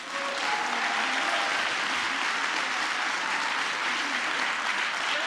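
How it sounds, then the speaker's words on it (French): Sustained applause from an audience for the candidates after their presentations at a judged competition, a steady, even wash of many hands clapping with no talking. "On peut applaudir encore une fois."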